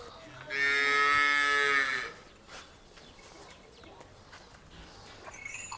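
A cow on a farm lets out one loud, close, drawn-out moo lasting about a second and a half, followed by quiet rustling background.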